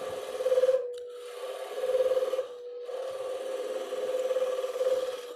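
A gouge takes pull cuts toward the headstock on wood spinning on a lathe, a rhythmic scraping hiss over the motor's steady hum, rising in several passes at close range.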